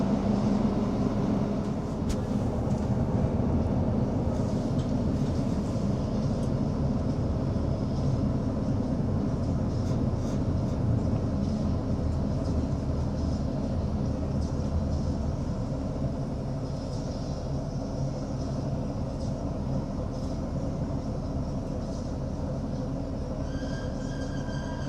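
A ScotRail Class 156 diesel train runs through the Nith Valley on the Dumfries to Glasgow Central line, a steady low engine drone and rolling rumble heard from on board, continuous and even throughout.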